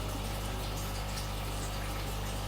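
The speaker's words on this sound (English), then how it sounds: "water's actually now coming out quite cleanly outside" Water rushes steadily out of the drain line of an aquarium siphon outdoors, a constant loud gushing flow with no pauses or voices.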